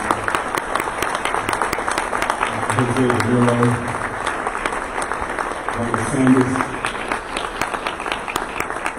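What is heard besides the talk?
luncheon audience applause for honorees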